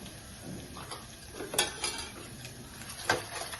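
Metal spoon clinking and scraping in a pan while besan with turmeric, salt, chilli powder and ginger-garlic paste is mixed into oil, with a few sharper knocks among soft stirring.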